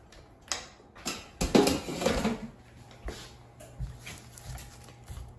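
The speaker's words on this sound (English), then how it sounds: "Now let's take them out of the air fryer." Crispy smashed potatoes being lifted out of an air fryer basket, a few light clatters and scrapes rising to a busier burst of clinks and rustles, then sparse taps, close and fairly quiet.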